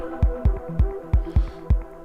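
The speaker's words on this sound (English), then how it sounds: "Let's try and find a glitch sample, a few glitch samples." A glitchy electronic sample plays back in a music production program, built from sharp, regular thumping hits about every quarter second over a low humming tone with clicky, stuttering tonal fragments.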